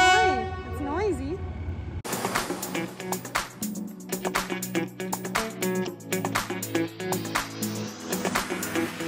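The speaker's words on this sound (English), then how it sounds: "While the train goes by, that's scary." A train on the Death Railway bridge in Kanchanaburi, Thailand, sounds a wavering horn and then rumbles past close by with rhythmic rattling clacks, with voices talking over it.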